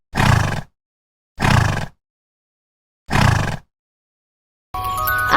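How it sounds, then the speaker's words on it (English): A horse neighing in three separate loud whinnies, evenly spaced with silence between, followed by a short burst of bright musical tones. "H for horse"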